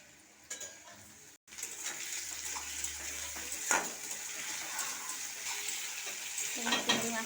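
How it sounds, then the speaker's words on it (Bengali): Prawns fry with onion and spices in a hot pan, a continuous sizzle broken by scraping stirs and clinks of a spatula against the pan, close and moderately quiet, no voices. "এই একই সঙ্গে চিংড়ি মাছটাও দিয়ে দেবো,"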